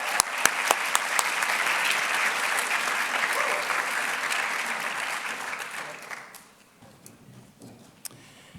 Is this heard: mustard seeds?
no